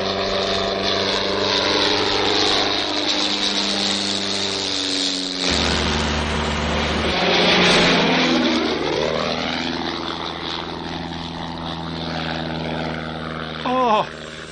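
A propeller-driven airplane comes in to land, its loud droning engine steady and close, pitch bending as it sweeps overhead and passes, filling the whole stretch without talk.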